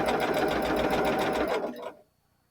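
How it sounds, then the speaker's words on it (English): A sewing machine chain-pieces quarter-square triangle units for a red and white quilt, running in a fast, even rhythmic whir close by for nearly two seconds before stopping abruptly into quiet. "So I'm going to sew these together, chain piece them all together here."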